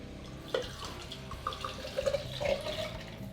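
Vodka trickles and splashes as it is poured into a bottle, close and fairly quiet, with a few brief gurgling drips and no voices.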